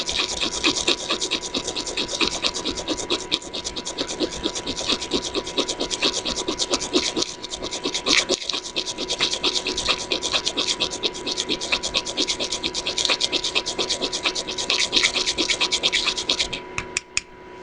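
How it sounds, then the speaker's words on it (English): Silver rubbed round and round into a mixture, a dense, steady scratching and grinding that runs continuously at close range, with a brief pause partway through. "silver off into the mixture by grinding it like this"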